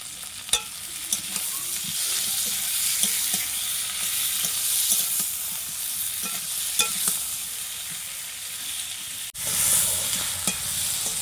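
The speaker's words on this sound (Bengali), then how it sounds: "আমি মশলা দিয়ে ভালো করে কষিয়ে নেব।" Katla fish curry masala with fried potatoes and tomato sautéing in a pan, a steady loud sizzle with spatula stirring scrapes throughout and a short break near the end, close up and alone.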